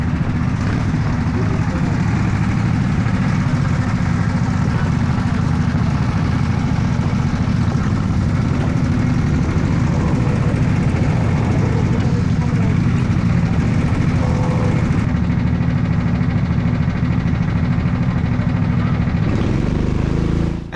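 A race car's engine idles in the pit lane with a loud, continuous, low rumble, while a voice talks over it.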